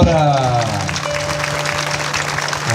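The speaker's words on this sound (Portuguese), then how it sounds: "palmas para Nossa Senhora" Applause for Our Lady of Conception breaks out at a Catholic church festival in Acaraú, Brazil, a crowd clapping continuously for a few seconds while a voice sings and speaks over it.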